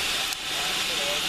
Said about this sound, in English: Class 57XX Pannier locomotive 47714, making its very first appearance here at a gala